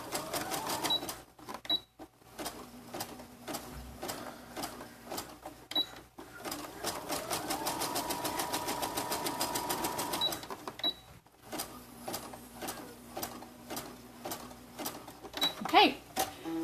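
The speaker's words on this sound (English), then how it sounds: "I'm going to just sew it in place right here. And again, another zigzag stitch" An electric sewing machine running a zigzag stitch on fabric for a DIY dart bag, steady rapid needle clatter in several runs separated by short pauses, with a soft voice talking faintly beneath.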